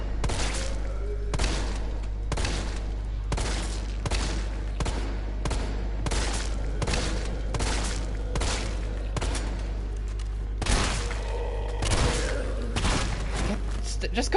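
Rapid gunfire from a pistol in Resident Evil 3 (2020) as the player shoots at a large enemy that will not go down. Shots crack in a steady, dense run over a constant low hum, with talk over them.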